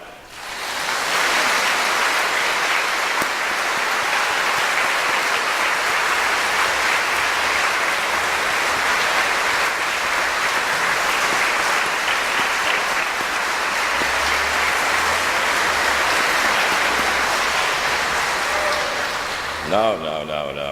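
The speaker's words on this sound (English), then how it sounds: "Please give him a clap" An audience at a church gathering applauds a priest in one long, dense, even wash of clapping that holds steady for about twenty seconds before stopping abruptly.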